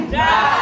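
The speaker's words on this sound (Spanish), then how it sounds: "voy a pedir fuerte las tres hurras por nuestra quinceañera" Guests at a quinceañera party let out a brief, loud collective hurrah, many voices shouting together in a short burst.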